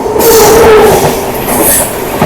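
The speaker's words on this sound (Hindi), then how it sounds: "संपूर्ण क्रांति एक्सप्रेस क्रॉसिंग, संपूर्ण क्रांति तगड़ी स्पीड में भाई साहब निकाला है।" The Sampoorna Kranti Express (12394), pulled by a powerful locomotive, rushes past at high speed, a loud continuous roar of wheels on rail with a brief squealing tone riding over the rumble.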